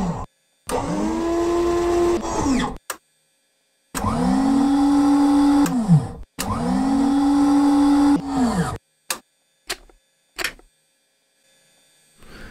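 Coolant and oil flaps on a P-51 Mustang moved by an electric motor in the Accu-Sim flight simulator, three separate whirring runs of about two seconds each with a rising then falling pitch, followed by several short clicks.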